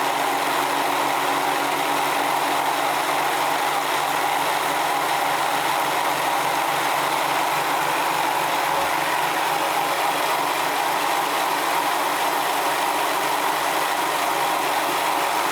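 A Searl effect generator spins steadily on its rollers at about 214 RPM, giving a constant, even mechanical whir with a faint ratcheting texture, heard alone with no talk.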